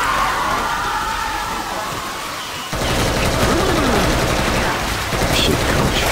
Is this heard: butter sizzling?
no